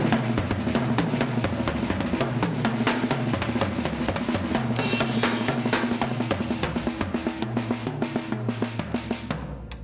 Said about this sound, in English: this is a thing with the grace notes on the snare